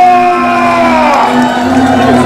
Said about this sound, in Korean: 다시 한번 환호해 주시기 바랍니다